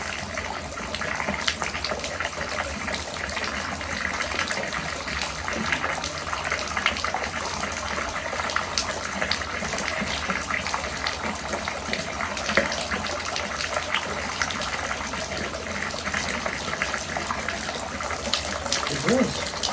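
Water runs steadily into and drains from a bathtub in a duplex with a sewer backup problem, a continuous close gushing wash filling the whole stretch without pause.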